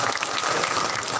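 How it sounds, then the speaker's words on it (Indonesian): An evening mosque gathering in Jetis, Cilacap, fills a short stretch with steady, fairly close clapping from the assembled crowd, continuous and unbroken. "Tepuk tangan."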